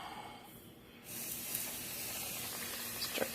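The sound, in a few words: chicken frying in hot oil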